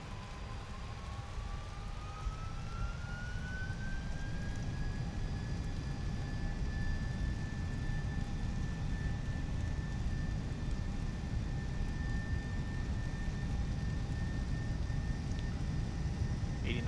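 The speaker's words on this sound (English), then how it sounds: "Alright, takeoff." A Boeing 767 freighter in the X-Plane 11 flight simulator spools up for takeoff, a steady loud engine roar with a rising whine that climbs and then holds, continuous and unbroken throughout.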